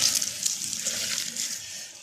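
Water pours steadily into a kadhi pakora mixture to loosen it, a close, continuous splashing rush lasting about two seconds with no talk.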